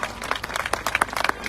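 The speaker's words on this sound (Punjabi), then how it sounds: "ਠੋਕੇ ਮਾਰੋ ਤਾੜੀ" Audience applause and clapping at a political speech, a dense patter of many hands with sharper individual claps popping out, fairly close and steady throughout.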